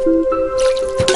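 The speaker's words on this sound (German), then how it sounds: "Ich kann noch ein bisschen die Blumen gießen." Watering flowers in the video game Plants vs. Zombies, a short burst of bright, close dripping and squishy liquid sounds over a steady game tone, alone without any talk.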